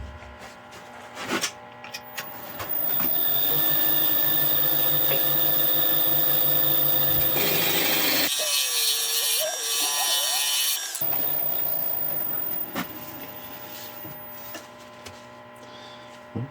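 A carbide tool turns a Swedish torch log set in epoxy resin on a wood lathe, producing a steady whirring hum with a rough scraping texture that rises briefly into a harsher cutting burst, then settles back.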